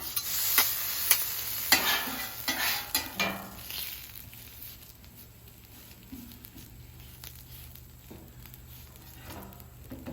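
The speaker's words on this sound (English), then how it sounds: "take that leftover oil from the meat, warm our tortillas up" Tortillas warming in leftover steak oil on a flat top griddle, giving a soft sizzle with a few clattering stirs and taps early on, then a quieter steady frying hiss.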